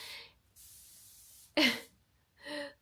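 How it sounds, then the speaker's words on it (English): Short hissing bursts of Febreze air freshener spray, a long steady spray followed by a sharper puff and another brief spritz, close by in a quiet room. "spraying Febreze because our room is kind of stinky"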